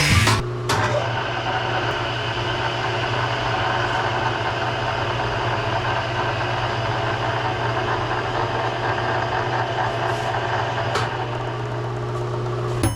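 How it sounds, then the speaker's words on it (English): A repaired variable-speed saw running on its slowest setting in a fabrication shop, giving a steady, close motor hum with a knock at startup and no talking. "The saw, I think, is going to work."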